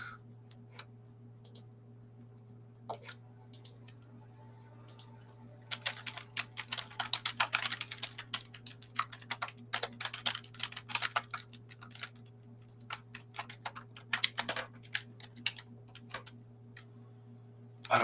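A password is typed on a computer keyboard, with quick irregular bursts of close key clicks over a steady low electrical hum, no talking.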